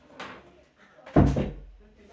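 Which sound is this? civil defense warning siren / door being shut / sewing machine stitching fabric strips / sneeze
door being shut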